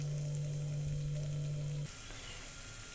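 Sundakkai vathal, dried turkey berries, sizzle and crackle in hot oil, a steady close frying hiss; a low electrical hum sounds under it and cuts out partway through.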